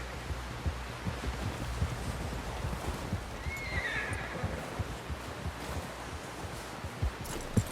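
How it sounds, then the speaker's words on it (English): A horse gives a short whinny partway through, heard faintly over a busy, rumbling background of movement and ambient noise with no talking. "Someone help John down off this horse"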